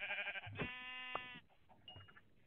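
Sheep bleating in a couple of drawn-out, wavering calls, fairly close and alone over a quiet background.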